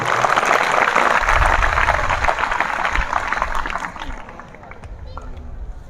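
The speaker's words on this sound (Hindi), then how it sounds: "इन सभी वैज्ञानिकों के लिए एक बार पुनः जोरदार ताली।" A crowd claps loudly for the Chandrayaan-3 mission scientists at a children's event. The broad, dense applause is strongest early, then thins over the last couple of seconds, with voices murmuring underneath.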